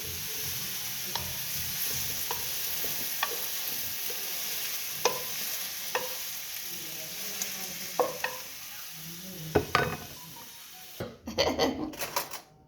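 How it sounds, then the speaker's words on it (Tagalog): Champignon mushrooms fry with a steady sizzle in a pan, stirred with repeated scraping clicks of a utensil, and a few sharper knocks of the pan near the end. "Luto ng aking mushroom."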